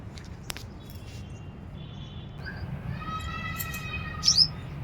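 Birds in a home garden in the evening give scattered chirps and a short run of thin repeated tweets, with one louder sharp call near the end over a low, steady background hum.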